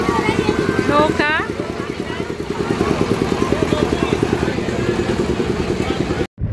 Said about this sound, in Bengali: এই খেলনা চালায় মেশিংয়ে অনেক শব্দ হয়